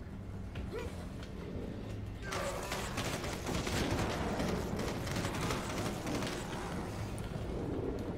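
Gunfire in the top-down shooter Solstice Chronicles: MIA, a dense, sustained barrage of rapid shots that swells after a quieter opening and keeps going loud with game explosions underneath.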